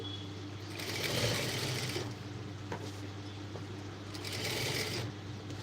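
A sewing machine stitches a blouse in two steady whirring runs with a brief slower stretch between, close and clear with a constant motor hum underneath.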